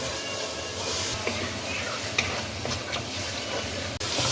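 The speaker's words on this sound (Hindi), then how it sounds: "अब मसाले को भी इसके साथ भून लें ताकि ये टमाटर में इसके साथ ही मिक्स हो जाए।" Ground cumin and coriander spices fry with tomatoes in a pan for a bitter gourd and lentil curry, giving a steady close sizzle broken by occasional stirring scrapes.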